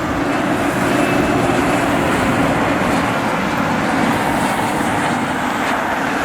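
Business jet at snowy Cleveland Hopkins airport, a loud steady engine roar that holds evenly throughout, heard from close by outdoors.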